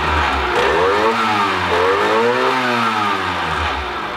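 A modified 50cc motorcycle revs on a dyno, its engine note climbing and falling in sweeping pitch bends while loud fan noise from the test bench roars steadily underneath, all close and sustained.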